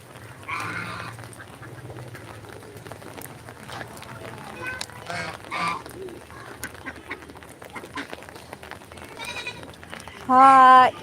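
Ducks and pigeons feed together outdoors during rain, with scattered nearby quacks and bird calls, soft pecking and shuffling. A loud bleating call comes near the end, and voices talk over much of it.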